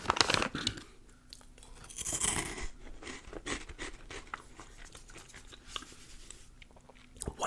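Someone bites into a crunchy South Korean puffed snack and chews it close to the microphone, giving a loud crunch at the start followed by steady moist crunching and mouth sounds.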